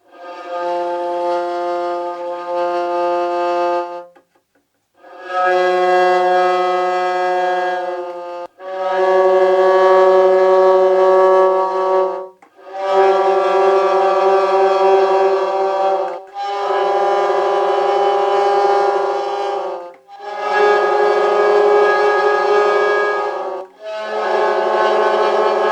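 Tone clusters of closely related pitches sounded together as dense sustained chords, about six long blocks separated by brief pauses, loud and steady with no speech over them.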